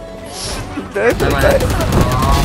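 Gunfire in Valorant erupts suddenly into a loud, continuous volley of sharp shots, with voices faintly mixed in under the shooting.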